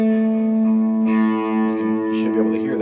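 Electric lead guitar with distortion and effects plays a sustained note that shifts into a short bending phrase, close and fairly loud, with no one talking over it.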